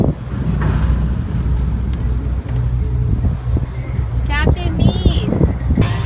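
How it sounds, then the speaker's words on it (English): A small boat cruises slowly across open water, with wind buffeting the microphone and water washing along the hull, while voices talk nearby. "loves the boat when we're going slow"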